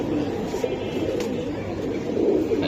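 A female silver Giribaj pigeon held in hand gives soft, low cooing murmurs, faint and continuous against a steady background hum.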